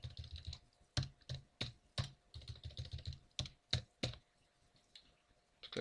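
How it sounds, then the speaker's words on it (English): A password is typed on a computer keyboard while setting up a Windows Server 2012 system: close, quiet key clicks in irregular bursts, with a few sharper presses and short pauses between them. "So let's type our password in."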